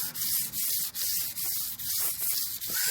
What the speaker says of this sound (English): You do not want to sand hard.